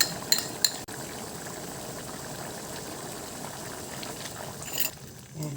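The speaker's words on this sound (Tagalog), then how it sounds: "Simmer lang natin siya hanggang sa ma-reduce yung sauce ng ating caldereta" Beef caldereta sauce with vegetables and liver spread simmers in a pot, a steady soft bubbling hiss that continues evenly throughout, with a couple of faint clinks near the start.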